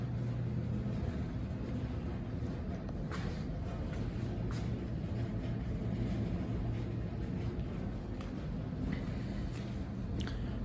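A 1979 International Harvester Scout II out on a test drive after restoration, its engine and road noise a steady low rumble throughout with faint higher rattles, heard from inside the vehicle with no talking.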